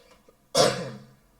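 A single sharp cough bursts out, close and fairly loud, then trails off over about half a second in a quiet room.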